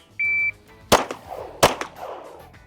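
A timer beep sounds, then two sharp gunshots ring out at a shooting range about three-quarters of a second apart, close and loud, each followed by a short echo.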